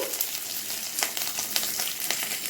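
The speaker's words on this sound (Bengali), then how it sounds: "আদাটা যেহেতু আমি গরম তেলে দিয়েছি" Ginger frying in hot oil in a pan, a brief steady sizzle with light crackles and a few stirring taps, close and continuous with no one speaking.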